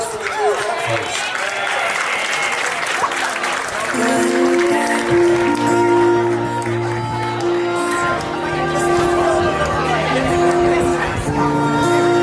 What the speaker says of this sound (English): Let's give a big round of applause for the two of them, folks.